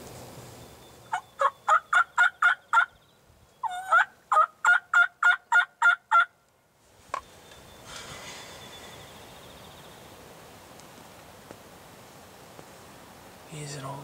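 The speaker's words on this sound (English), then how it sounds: "He's an old gobbler" Wild turkey, an old gobbler, gobbling outdoors on a mild afternoon, two loud rapid bursts of rattling gobbles close together, then quieter rustling and faint outdoor ambience.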